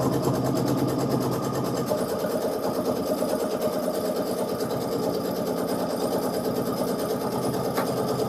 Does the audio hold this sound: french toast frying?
no